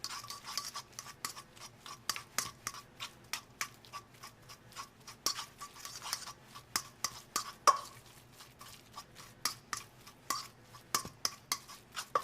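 Stuffed egg filling being blended in a bowl: quiet, steady ticking and scraping strokes in an even rhythm, close by and faint, with no talking.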